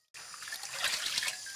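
Water is poured from a dipper during a Filipino-style dip bath, a short burst of splashing and trickling onto a surface that starts abruptly after silence and stays fairly loud throughout.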